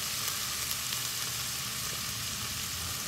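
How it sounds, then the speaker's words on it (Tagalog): Shrimp paste with chili is sautéed in a pan, giving a dense, continuous sizzle that stays close and even throughout with no talking. "igisa lang natin yung siyang mabuti"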